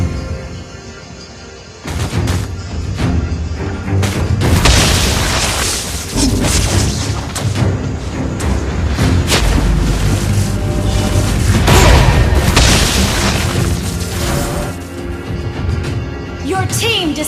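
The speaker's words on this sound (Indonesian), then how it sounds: "Your team destroyed a turret!" Turret destroyed in a Mobile Legends match: heavy booming explosions and crashing game effects follow one another over a continuous loud mix of battle sounds and voiced game announcements.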